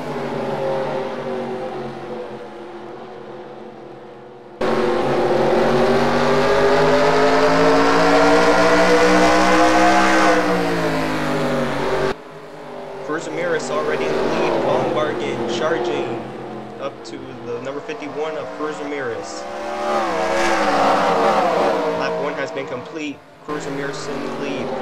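Race cars roaring off at the green flag of an All-Star race at North Wilkesboro Speedway, a loud sustained engine drone that swells and shifts throughout, with an announcer commentating over it.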